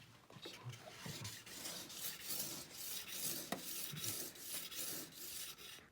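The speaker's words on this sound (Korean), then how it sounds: "다이아몬드 스톤 작업 여러 번에 걸쳐서 해요." A diamond stone is rubbed repeatedly along the base edge of a ski during tuning, giving faint, close rasping strokes in a steady back-and-forth rhythm.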